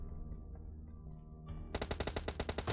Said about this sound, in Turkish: Arkadaşlar arkadan vurdu.